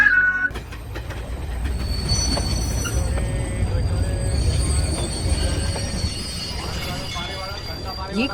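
A passenger train runs along the rails, its wheels squealing in thin, high tones over a continuous rolling rumble, with speech mixed in now and then.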